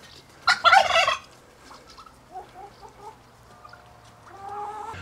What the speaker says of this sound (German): die Pute, die sitzt hier im Eck und brütet schon wieder